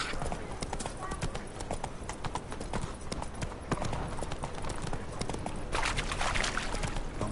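Horse hooves galloping in The Witcher 3 video game, a steady rapid clip-clop running throughout under a continuous bed of in-game ambience, with a brief whinny-like burst near the end.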